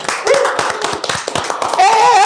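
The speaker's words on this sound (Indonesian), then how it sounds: "Tepuk tangan dong" Scattered hand claps from a small group of Big Reds Depok football supporters, uneven and close, with a voice calling out briefly over them.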